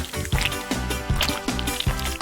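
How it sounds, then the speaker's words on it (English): Melted gummy bears bubble up, making soft wet pops and squishy drips that recur every half second or so, fairly close and alone. "Let's melt them. Gotta love the way it all bubbles up."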